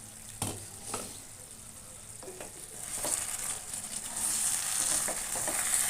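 Chicken simmering in coconut milk is stirred in a pan, with occasional utensil scrapes and taps over a soft, steady sizzle that grows slightly louder toward the end.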